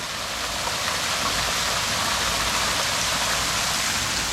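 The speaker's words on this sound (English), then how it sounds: "the relaxing sound of the water falling and hitting the water" A waterfall in the nature outside Riga, Latvia pours into a pool below, making a continuous, loud, broadband rush of water splashing onto water, close and steady with no voices.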